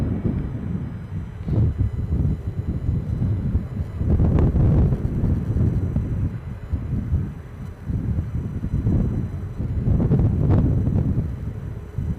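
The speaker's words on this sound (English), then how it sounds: "You'll have seen the way that came down, a mighty gust of wind." A mighty gust of wind buffets the open air at Edinburgh Airport, roaring in heavy low rumbling surges that rise and fall in two main swells, loud and close against the microphone.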